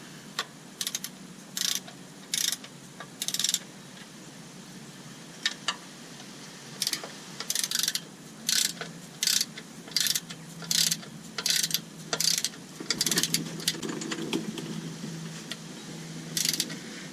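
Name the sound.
torque wrench ratcheting bolts on 2005 Toyota Tacoma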